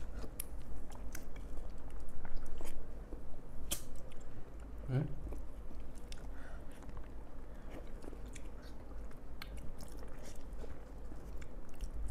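Someone eats a ripe mango up close, with wet bites, squishy chewing and slurping spread through the clip, and a voice talks quietly in the background at times.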